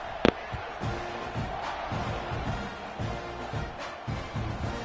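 Stadium crowd in the Madden 26 football video game roars steadily through a kickoff, a broad continuous cheer with a sharp thump near the start and swells of noise, no voices speaking.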